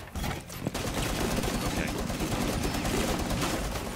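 Sustained gunfire in Rainbow Six Siege fires to break open a wall, giving a loud, dense, continuous rattle of shots that fills the whole stretch.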